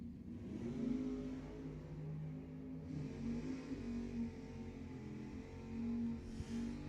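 A Camaro and another drag car accelerate down the strip at Lebanon Valley Dragway, with engines droning and revving at a distance in a sustained roar that swells and shifts pitch over several seconds.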